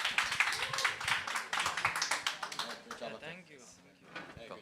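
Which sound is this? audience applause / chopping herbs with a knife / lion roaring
audience applause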